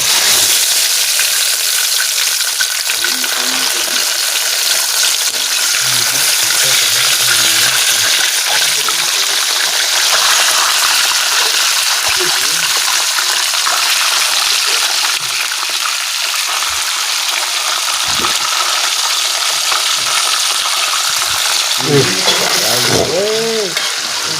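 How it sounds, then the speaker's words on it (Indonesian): Eel frying in oil in a pan gives a loud, steady, dense sizzle lasting the whole stretch, with a few light clatters of stirring near the end. "Dimasukin minyaknya. Dimasukin belutnya."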